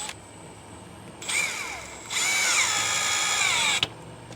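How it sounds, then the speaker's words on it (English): Power drill driving 2-inch screws into a wooden shelf: a short rising whir followed by a longer, louder straining run that stops with a click, close and alone. "I can install a 2-inch screw, and then I'll also be screwing through the faces of each"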